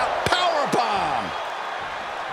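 A sit-out powerbomb slam in the WWE 2K25 wrestling video game: two quick heavy impacts early on, followed by a sweeping whoosh, with commentary-like voice and crowd ambience underneath.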